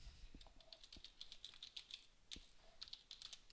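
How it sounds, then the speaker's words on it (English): Quick, irregular keystrokes tapping on a computer keyboard, close up and fairly quiet, with brief pauses between bursts and no voices. "I'll type away using the keyboard"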